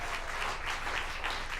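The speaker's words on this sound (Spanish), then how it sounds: "Pablo, denle ese aplauso al Señor." A church congregation at a Spanish-language sermon breaks into sustained applause, a dense, even wash of many hands clapping at a steady level throughout the short stretch, with no voices.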